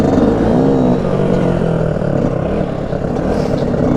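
A Chinese pit bike engine revs loud and close during a wheelie, a buzzing, droning tone that holds steady with slight pitch wavers and no talk.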